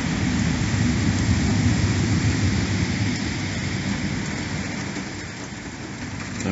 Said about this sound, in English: So far the beds are dry and the rain is falling through the cracks.